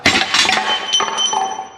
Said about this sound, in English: I've got these 2 steel sleeves in the control arm, which I need to press out now